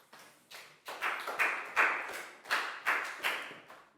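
A class of children gives a pupil a round of applause after he correctly guesses a sport in a year 4 English lesson. Close clapping comes in repeated bursts that swell and fade for about four seconds, with no voices.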